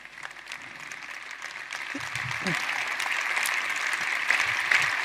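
An audience at a motivational talk claps in a steady, dense wash that swells slightly toward the end, with a few low voices murmuring under it.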